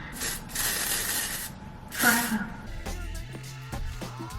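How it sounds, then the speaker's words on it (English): Short hissing bursts of an aerosol spray tan lace tint can sprayed onto wig lace, two or three quick sprays up close, followed by faint handling noises. "This is spray tan lace tint."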